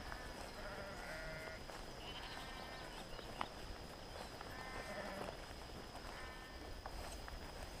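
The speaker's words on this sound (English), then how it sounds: "walking in and amongst the sheep again" Unshorn sheep in an Irish field bleating repeatedly at moderate distance, several overlapping calls spread across a steady outdoor background.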